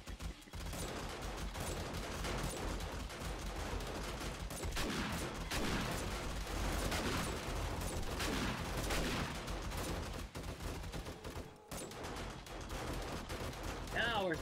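Sustained video game gunfire as zombies are shot down while defending a painted horde base, dense and continuous for the whole stretch with a brief gap near the end, mixed with game noise and some talking.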